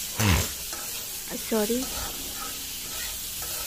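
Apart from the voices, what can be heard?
Maggi noodles with onion and chilli frying in a pan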